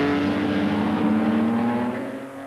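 1950s Grand Prix race cars, a Ferrari passing a Maserati, roar by close and loud in a sustained high engine note that fades slightly at the end.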